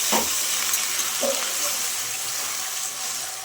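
Fried spice paste for a snakehead fish and potato curry hisses and sizzles steadily in the pan as a little water goes in, a continuous close broadband fizz with a couple of brief clatters.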